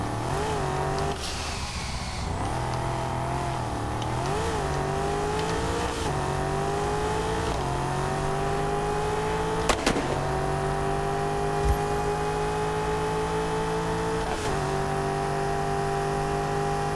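A car in the racing game TDU Solar Crown drives at full speed through a city, its engine droning loud and steady with repeated gear shifts rising and dropping in pitch and a few short knocks.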